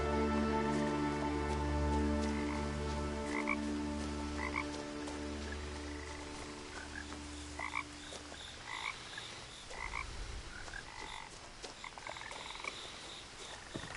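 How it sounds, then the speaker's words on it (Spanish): A chorus of frogs croaks steadily in a pond setting inside an exploration video game: deep, regular croaks early on give way to scattered higher chirping calls, with no talking. "Además que se escuchan ranas"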